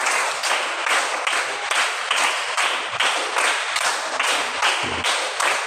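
Schoolchildren in a classroom clap in unison to a counted routine, sharp, loud group claps repeating in a steady, even beat with no talking.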